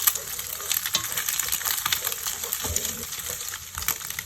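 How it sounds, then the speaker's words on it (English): Steady frying sizzle with scraping and light clinks of a utensil stir-frying eggs in a hot pan, continuous and close. "Stir-fry the eggs."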